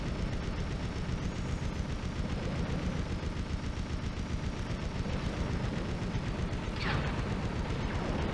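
Bob fires rapid gunshots in the PS1 game ReBoot, a dense, continuous barrage of blasts over loud game noise, with a sharper burst near the end.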